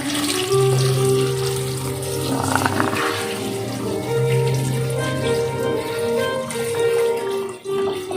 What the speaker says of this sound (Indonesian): Terus tambahin air. Tambahkan air.